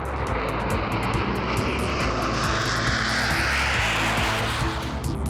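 A Saab Viggen single-engine jet fighter roars past, a loud, sustained engine rush that swells and sweeps across the sky, heard alone without voices.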